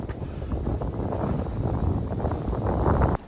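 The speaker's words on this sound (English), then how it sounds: "Slightly windy now" Gusty wind in Sydney buffeting the microphone in low rumbling rushes, continuous and close, cutting off abruptly at the end.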